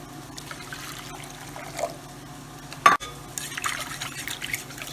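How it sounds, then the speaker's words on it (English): Warm water trickles into a bowl holding soup mix in a short, gentle pour with faint sloshing, set against quiet kitchen background noise, with one sharp clink near the middle. "Then we add 2 cups of warm water to this."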